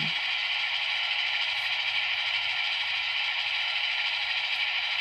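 A steady, droning diesel engine rumble from an Atlas EMD GP7 HO-scale model locomotive in notch 8, holding one even level throughout with a faint rattle and no talking.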